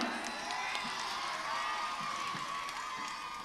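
Audience applause and cheering for a performer named Hansa at a live Gujarati shayari stage show, a dense, steady wash of clapping filling the whole moment with crowd noise and no single voice standing out.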